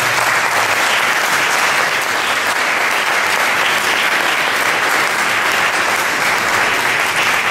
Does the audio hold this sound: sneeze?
no